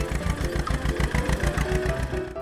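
A tractor engine runs with a steady, throbbing chug of regular low pulses, loud and close, with no voices over it.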